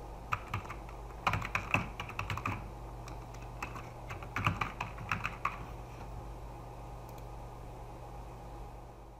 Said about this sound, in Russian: Пишем наш email адрес.